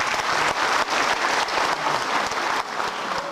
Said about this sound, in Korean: 없으시면 모두 박수로 찬동의 뜻을 보여주시기 바랍니다.